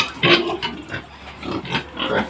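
Pigs grunt and snuffle close by in a pen in short, irregular bursts, with no voices present.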